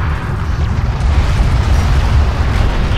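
Strike craft blowing up in the sci-fi strategy game Homeworld: Deserts of Kharak, a steady loud rumbling explosion with deep low-end boom sustained over a few seconds, no voices.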